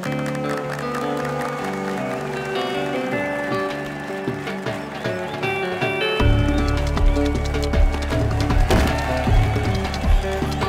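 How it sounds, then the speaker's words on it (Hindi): Applause from a crowd of people in a Hindi-dubbed South Indian action movie, a dense, steady clatter of clapping hands that swells louder partway through, mixed with background music. "अगर सब तैयार है तो ताली बजाओ।"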